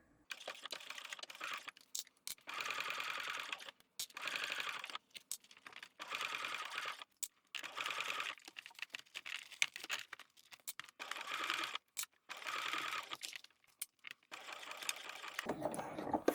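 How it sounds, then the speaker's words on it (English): A sewing machine stitches all the way around a bag made of waterproof canvas, running in close, steady bursts of a few seconds each, broken by short pauses with nobody talking. "I'm going to backstitch at the beginning and sew all the way around."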